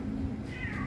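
A single cat meows once, a short rising call near the end, set against a steady low hum of a background with no talking.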